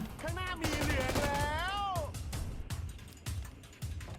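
Rapid bursts of gunfire in the PUBG Mobile battle-royale shooter, a string of sharp shots spaced through the clip with an excited voice shouting over the opening half.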